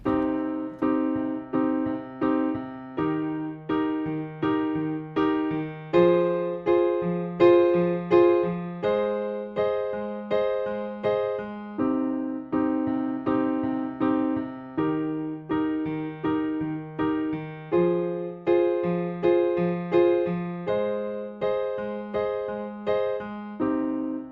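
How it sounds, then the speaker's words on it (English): A keyboard plays a repeating four-chord progression, each chord struck in steady rhythmic pulses at moderate volume, with no voices. "So those 4 chords in sequence sound like this."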